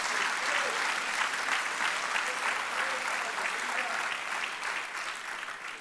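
A church congregation breaks into steady, strong applause for the Lord, a dense wash of clapping from many hands that holds for several seconds and tapers slightly at the end.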